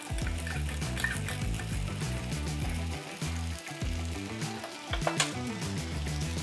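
Pesto sauce added to a pan with prawn spaghetti sizzles and fries steadily up close, with bursts of stirring clatter and scraping and a low tonal hum underneath, no talking.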